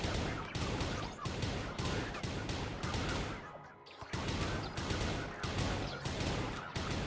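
Rapid, sustained automatic gunfire from a space shooter game, dense volleys rattling almost continuously with a brief lull midway before the barrage resumes at full intensity, no voices.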